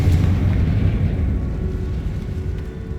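A Confringo fire spell blasts in Hogwarts Legacy, a loud, deep booming explosion that rumbles and slowly fades over a few seconds.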